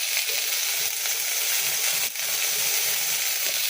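Vegetables and khichuri frying in a pot give a steady, close crackling sizzle that holds evenly throughout, with a brief dip in the middle and no talking.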